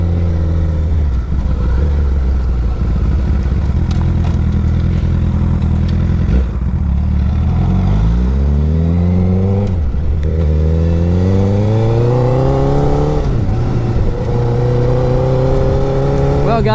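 A 2008 Honda CBR1000RR being ridden, its engine droning loudly and rising and falling in pitch through repeated gear changes, with wind rush close by and a voice faintly under it.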